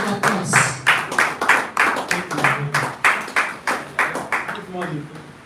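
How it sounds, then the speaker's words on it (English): Audience at a conference summit clapping in a steady rhythmic beat, about three claps per second, fairly loud and near, with murmured voices underneath throughout. "let's give him a round of applause"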